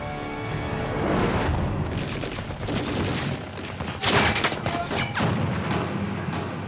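German machine-gun fire at landing craft in a WWII war scene, dense overlapping bursts and booms, loud and continuous with a heavier cluster of shots midway.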